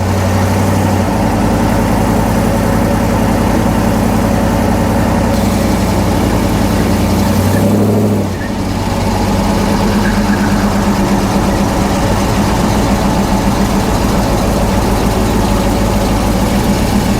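A 1967 Chevelle with an LS engine swap idles steadily and loudly up close, a continuous low rumble with a brief dip partway through and no voices over it.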